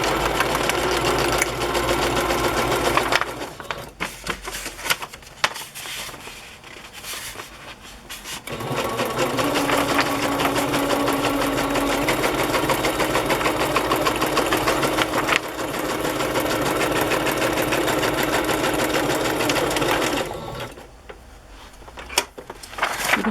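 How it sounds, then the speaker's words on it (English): Sewing machine stitching sheets of paper together into a wider page, running in long continuous bursts with steady mechanical whirring and brief pauses between runs. "So I'm just going to start sewing."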